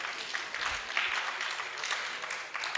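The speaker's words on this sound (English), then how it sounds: "A round of applause for all of them." Audience at a law week town hall meeting in Lagos gives a round of applause, a fairly faint but continuous patter of many hands clapping from a distance.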